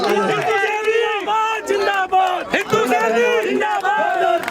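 A crowd at a Govardhan Puja gathering in Gurugram shouts a loud, ragged chant in repeated voiced bursts, many voices overlapping close by.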